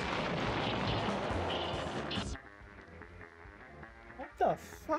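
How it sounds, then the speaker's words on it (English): A loud thunder clap bursts out as a sudden broadband boom over a busy, talk-heavy background, then rumbles off into quieter surroundings with a few sharp crackles near the end. "it's just thunder. I thought that was an explosion"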